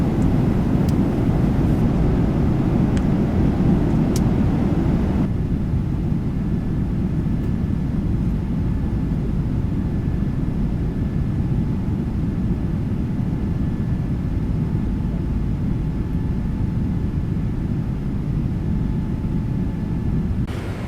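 A loud, steady airliner rumble fills the cockpit of a Microsoft Flight Simulator 2020 flight descending into Sydney, a constant broadband roar with a faint tonal whine, no voices.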